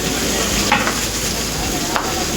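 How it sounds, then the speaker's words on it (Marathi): Mustard seeds, chilli and coriander sizzle loudly in hot oil as a dal tempering is prepared for a large batch, a steady crackling fry with brief spatters and stirring, no talking. "डाळीला फोडणी देतोय"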